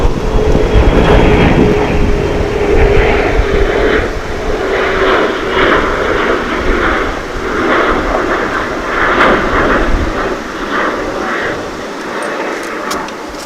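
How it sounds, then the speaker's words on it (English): An American Airlines Airbus A321 jet bound for Phoenix rumbles loudly and steadily at DFW International Airport, a broad continuous roar with whining tones that slowly fade over the span, no talking. "That was American Flight 2305 on its way to Phoenix. An Airbus A321."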